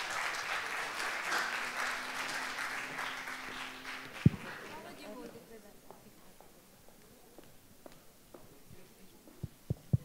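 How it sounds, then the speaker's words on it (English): Audience applause welcoming presenters at a conference session on public-private partnership in the Philippines, a dense clapping wash that thins after about four seconds into scattered claps and room murmur, with a loud thump midway. "Please welcome with a big round of applause."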